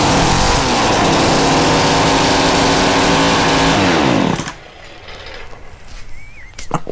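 Mantis tiller engine fired up with no muffler, roaring loud and harsh for about four seconds with rising revving harmonics, then cutting off abruptly to quiet background and a few faint knocks.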